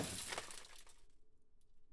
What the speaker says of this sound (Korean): 쨍그랑 소리와 함께 주스병이 깨졌습니다.